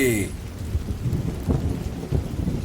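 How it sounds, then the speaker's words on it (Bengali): Rain falling on a night in a village, a steady close downpour with low rumbling underneath, and no voices. "দেখো না কি সুন্দর বৃষ্টি হচ্ছে"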